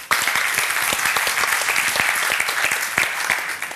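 Audience clapping for a sponsor at a conference opening ceremony: a steady, dense round of applause from a sizeable crowd, close and continuous throughout with sharp individual claps standing out.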